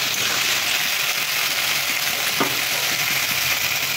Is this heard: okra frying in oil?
yes